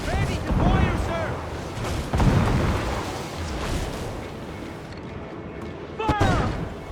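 Ship cannon volleys boom across a naval battle in Assassin's Creed Black Flag, with heavy rumbling blasts throughout, a loud burst near the start and another near the end, under shouted crew voices.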